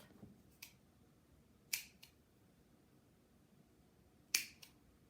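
Scissors snip the string ends on a wooden bead garland: a few sharp, isolated clicks spaced across a quiet room, close and crisp.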